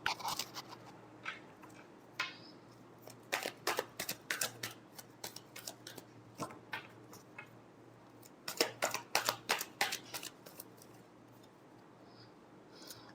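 Tarot cards being shuffled in quiet bursts of crisp, rapid riffling clicks, with two denser runs and scattered single snaps between, close and soft, with no talking.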